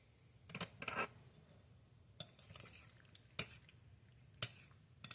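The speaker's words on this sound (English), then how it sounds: "I'm just giving that another quick stir just because it had been sitting there" A spoon scrapes and clinks through pasta shells in a pan, a few short metallic bursts separated by quiet gaps, close and fairly soft with no talking.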